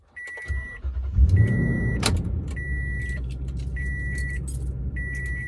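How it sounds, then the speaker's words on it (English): A Toyota Tundra pickup starts by remote start, with key-fob beeps and a low engine idle settling in and running steadily close by, punctuated by repeated chimes. "So I'm going to try to remote start it now."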